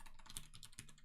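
Quiet, rapid clicking of keys on a computer keyboard as a search term is typed, a steady patter of keystrokes with no voices.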